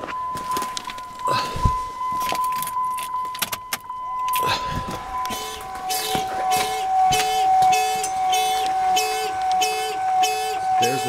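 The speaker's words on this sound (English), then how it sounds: "Let me go ahead and start the truck" Keys jangle and click near the microphone, then a truck starts up and settles into a steady idle with a rhythmic pulsing tone, with occasional speech in the background.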